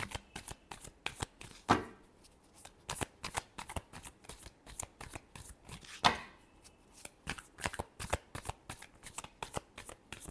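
Tarot cards are shuffled close up in rapid riffling bursts of sharp flicks, with two louder riffs, in a quiet room with no talking.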